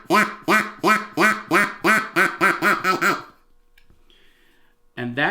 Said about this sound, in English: And that becomes your poor man's duck call, or an actual instrument that you can make out of a straw.